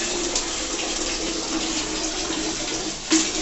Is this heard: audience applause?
no